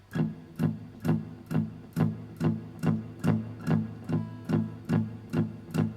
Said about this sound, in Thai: การอุดสายนะครับ ใช้สันมือตรงนี้นะครับ อุดสายไว้นะครับ